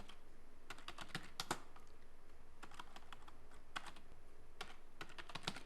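Keys clatter on a computer keyboard as a district name is typed into an accounting software form, in quick irregular bursts of close, crisp clicks with short pauses and no voices.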